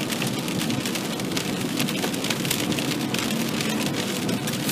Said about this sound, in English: So driving in this water rain is gonna be challenging